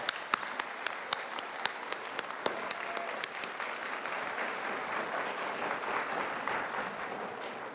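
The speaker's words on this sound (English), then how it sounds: "I'm hoping everybody behind me will join me in applauding" An audience at a council meeting breaks into applause, with a few sharp, distinct claps at first that swell into steady, moderately distant clapping from the room.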